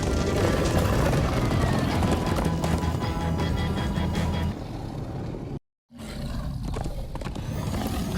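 Several horses gallop in a cartoon, their hooves a dense, continuous clatter of clip-clops with a roaring rush and whinnies. The sound is loud and close, cuts out for a split second, then resumes.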